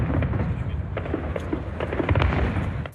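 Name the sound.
fireworks exploding over Fourvière basilica, Bastille Day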